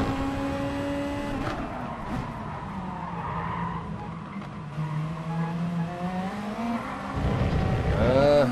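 A VW Beetle GT3 race car in GT Sport laps Tsukuba circuit, its engine note rising and falling through corners while the tires squeal and skid. The sound is steady and fairly loud throughout.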